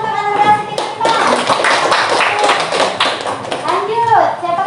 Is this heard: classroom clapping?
yes